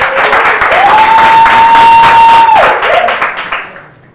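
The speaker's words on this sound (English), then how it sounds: "Round of applause." A studio audience at a quiz show gives a round of applause for a contestant. The clapping is loud and steady, a sustained tone runs beneath it, and it fades out at the end.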